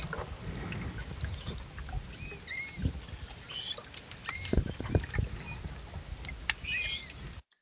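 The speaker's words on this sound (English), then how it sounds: "Probably not what you thought a manatee would sound like for being such a large creature, right?" High-pitched squeaks and chirping squeals from a manatee, several short calls scattered over splashy water and bubbling noise.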